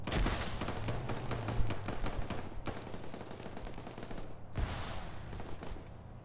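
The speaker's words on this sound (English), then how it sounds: "There's a machine gun up in the compound." Sustained automatic machine gun fire in the ARMA military shooter, a dense rapid burst of shots with a loud blast near the end, heard close and continuous without talk.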